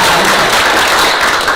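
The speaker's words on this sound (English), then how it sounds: "yes, you can clap." Audience applause at a city council meeting after a local team's win is announced, a dense, steady wash of many hands clapping for a short burst with no pauses.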